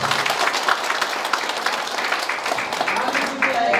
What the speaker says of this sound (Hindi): मैं आदरणीय रितम मनु जी से भी आमंत्रित करूंगा कि ताई निक्यू जी को भी उनको बीजेपी की तो एक बार जोरदार से तालियां करें।